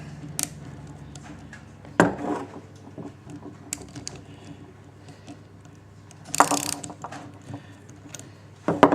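A three-jaw bearing puller is tightened on an electric motor coupling, giving quiet metallic ratcheting and scraping clicks, with sharper clanks and knocks near the start, middle and end, close and without speech.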